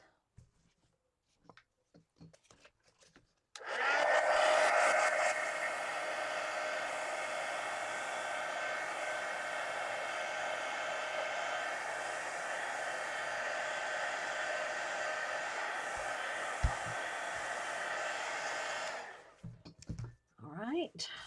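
A hair dryer runs steadily for about fifteen seconds, drying freshly glued pages of a steampunk collage mini book, loud and constant with a few small handling clicks around it.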